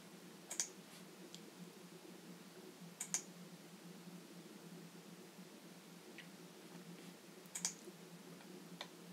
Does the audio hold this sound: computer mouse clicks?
yes